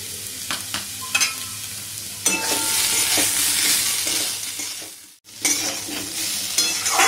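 Potatoes stirred and fried with ginger paste and green chili paste in a pan, giving a steady close sizzle with scraping stirring strokes and a few metal clinks, and no talk.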